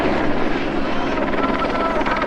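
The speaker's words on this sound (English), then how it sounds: "there's a helicopter going around" A U.S. Customs and Border Protection helicopter flying low overhead at a protest, its rotor thumping steadily and loudly, a continuous chopping drone filling the whole short stretch.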